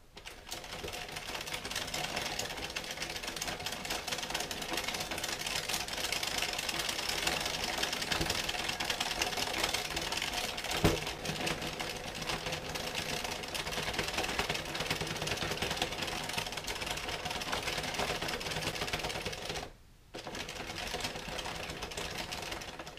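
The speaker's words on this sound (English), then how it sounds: "I can just move my forearm in little circles to crank the handle." An Addi Express Kingsize knitting machine is cranked by hand, making a steady, continuous mechanical clatter for about twenty seconds with one brief pause near the end.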